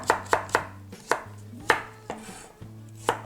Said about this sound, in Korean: 다음은 이제 당근을 썰 건데요.